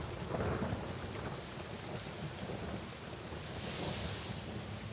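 A thunderstorm with rain hisses steadily at low level, with soft low rumbles of thunder rolling underneath and no voices.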